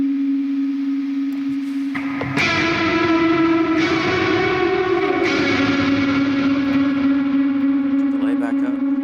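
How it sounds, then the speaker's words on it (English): An electric guitar played through the Tonocracy amp modeler with delay and large hall reverb rings out in sustained, distorted notes and chords, each attack trailing into a long, washy, echoing tail. "Go ahead and throw some reverb on it. Let's go large hall."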